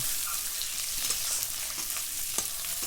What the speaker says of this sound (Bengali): আলুটা দিয়ে একটু ভালো করে ভাজছি